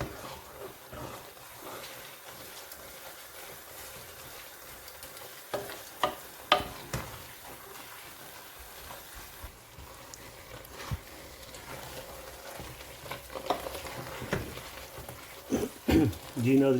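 Thick haleem is stirred and mixed in a pot, with soft scraping and bubbling that builds into louder knocks and clatter of the spoon against the pot near the end.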